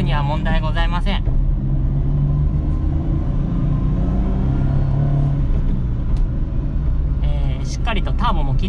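A Suzuki Jimny JA11 turbo engine pulls hard during a test drive, a loud continuous rumble heard from inside the cabin, with someone speaking over it at the start and again near the end.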